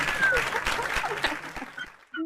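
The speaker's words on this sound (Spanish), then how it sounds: "Con los aplausos. Nuestros efectos especiales." Canned applause sound effect played on a talk show, a short burst of clapping that fades out and then cuts off, followed by a voice starting to speak.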